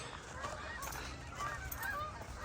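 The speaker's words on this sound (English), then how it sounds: "Canadian geese are coming back." Canada geese honk repeatedly in short nasal calls, moderately distant, over a steady outdoor background rumble.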